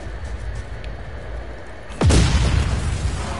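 A sudden booming explosion in the video game Just Cause 4 erupts about two seconds in, loud and deep with a rumbling tail, after a quieter stretch of game ambience.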